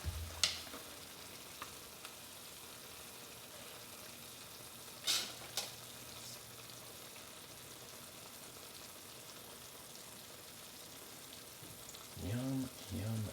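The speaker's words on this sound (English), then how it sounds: "I'm just gonna stir it around a little bit, honestly" Oyakodon is stirred as it fries in a pan, giving a soft, continuous sizzle with a few sharp clinks of a utensil. A voice briefly talks near the end.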